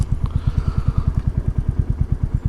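A 2022 Royal Enfield Classic 350 single-cylinder engine thumping at a steady idle, close and loud with an even, rapid pulse and no talk.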